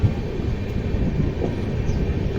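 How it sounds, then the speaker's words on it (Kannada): Jan Shatabdi Express train number 12089 pulling into Bhadravati station, a steady low rumble of rolling wheels and carriages that stays loud and continuous throughout, with no voices. "ಟ್ರೈನ್ ಫೈನಲಿ 2 ನಿಮಿಷ ಅಷ್ಟು ಡಿಲೇ ಆಗಿ ಭದ್ರಾವತಿಗೆ ಬಂತು"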